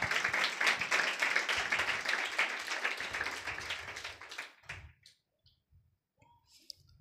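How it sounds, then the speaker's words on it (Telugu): A church congregation at a Sunday service claps loudly and together for about four seconds, a dense roar of hands that fades into scattered final claps and near silence. "సరే గట్టిగా చప్పట్లు కొడతావా?"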